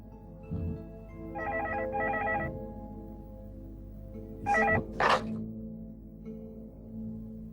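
Two short bursts of dialing tones, then a couple of louder electronic beeps, over a steady low hum.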